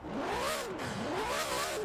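A Formula 1-like car engine in the video game Forza Horizon 4 revs steadily, pitch rising and falling in two smooth sweeps, loud and continuous with no talking.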